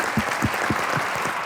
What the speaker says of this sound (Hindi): एक बार जोरदार तालियां हमारे लेजेंड के लिए।